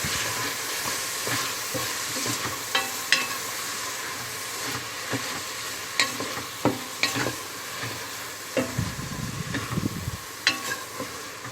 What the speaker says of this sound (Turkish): soğanlarımı da ekledim. Bunları da böyle birazcık kavuruyorum.